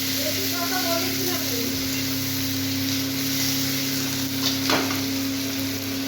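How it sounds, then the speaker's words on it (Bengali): Chopped onions fry in a wok on a home stove, giving a loud, steady sizzle and hiss that runs unbroken throughout, with a brief stirring scrape and faint talk in the background. "এবার আমি পেঁয়াজ কুচিয়ে রেখেছিলাম সেগুলো কড়াইতে দিয়ে দিচ্ছি"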